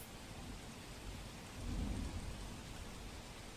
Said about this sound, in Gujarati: એસજી હાઈવે, પાલડી સહિતના વિસ્તારોમાં પણ વરસાદ થઈ રહ્યો છે